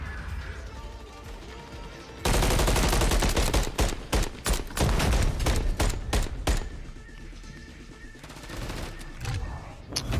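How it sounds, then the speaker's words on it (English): Rapid bursts of automatic gunfire and bullets crack through a Call of Duty match at a CDL Major 1 Championship, starting after a quieter stretch, loud and dense with brief gaps, then easing back under faint voices. "See all those other bullets flying?"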